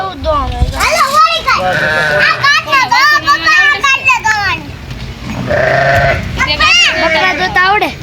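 Several goats bleat loudly and repeatedly at close range, wavering cries overlapping with children's voices talking nearby.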